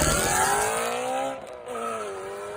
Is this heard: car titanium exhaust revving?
yes